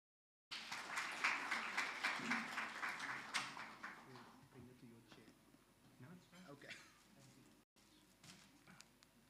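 Audience at a gala dinner clapping for a professor, a fairly faint burst of many hands that tapers off within a few seconds, with scattered claps and room noise continuing.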